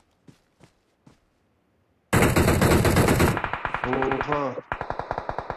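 Gunfire in the video game PUBG Mobile: a few soft taps, then a loud, sustained burst of rapid automatic fire followed by more quick shot strings, close and harsh, with a brief spoken exclamation.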